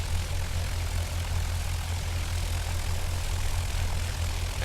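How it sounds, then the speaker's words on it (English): Light propeller airplane taxiing at night in the X-Plane 10 flight simulator, a steady low engine drone with a constant whirring hum, faint and even throughout with no voices. "I'm taxiing a little bit fast"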